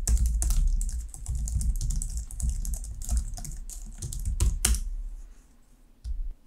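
Steady, close computer keyboard typing as C# code for a chess game is entered, with dense rapid keystrokes continuing for several seconds before easing off near the end; no talking.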